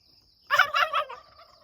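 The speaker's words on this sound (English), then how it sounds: "we have a lot of wild turkeys" A wild turkey tom named Harley, the big male on a homestead, lets out a single rapid, throaty gobble about a second long, clear and fairly near in an otherwise quiet outdoor setting.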